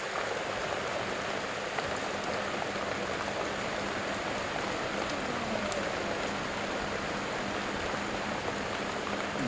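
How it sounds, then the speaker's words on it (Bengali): Rain falling at night in a sudden downpour, a dense, steady hiss of drops on surfaces, loud and close throughout, with no talking. "দেখতে পাচ্ছেন রাতের বেলা হঠাৎ করে বৃষ্টি দেখতে পাচ্ছেন আপনারা।"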